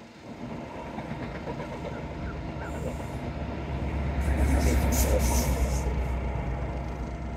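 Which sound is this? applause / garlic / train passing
train passing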